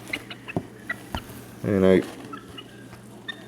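Young chickens, including one turning out to be a rooster, give a short loud throaty cluck in the middle, with sparse soft peeps and rustling around it and a brief spoken word at the start.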